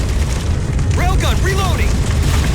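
Heavy booming blasts from a railgun firing at Phantom dropships in the Halo 4 video game, a deep rumbling low end running throughout with a spoken voice layered over the middle.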